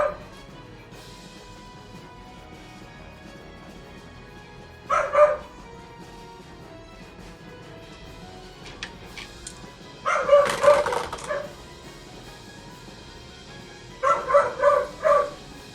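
A dog barks in three loud, separate bursts of a few barks each, spread across the stretch, with quiet room background between them.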